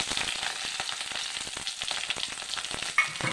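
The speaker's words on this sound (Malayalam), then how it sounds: "കടുകൊട്ടി കരിവേപ്പില ഇട്ട് അതിലേക്ക് നമ്മൾ ചതച്ച് വെച്ചിരുന്ന കൂട്ട്" Mustard seeds, curry leaves and a crushed spice mix fry in hot oil in a pan, giving a continuous close sizzle with scattered sharp pops and crackles.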